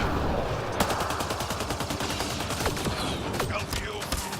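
Rapid automatic gunfire from the video game Mass Effect Andromeda rattles in dense, steady bursts with sharp, close cracks and a few louder single shots.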